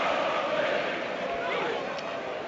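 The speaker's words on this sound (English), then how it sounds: "you can hear the crowd getting behind the Aberdeen players" A football crowd at an Aberdeen versus Raith Scottish Cup match roars steadily in support of the Aberdeen players, a broad sustained cheer heard at a distance under a commentator's voice.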